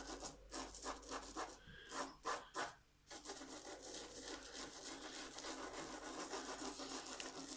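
Pastel chalk is rubbed onto an egg, giving soft, close, scratchy strokes in a quick irregular rhythm, followed by a steadier faint rasping.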